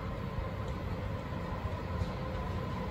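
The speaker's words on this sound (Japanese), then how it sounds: "The special rapid airport train for Sapporo is arriving at" A JR Hokkaido 733 series special rapid Airport train pulls into a station platform on the Chitose line, a steady low rumble and rolling noise throughout, moderately quiet and without voices.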